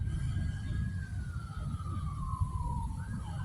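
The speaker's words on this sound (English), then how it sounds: "Sirens." A wailing siren sweeps slowly downward from a distance over a low rumble of traffic, then starts rising again.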